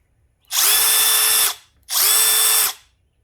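Two loud, close bursts of a Milwaukee M12 cordless hammer drill running at speed 3, each about a second long, with a brief quiet gap between them.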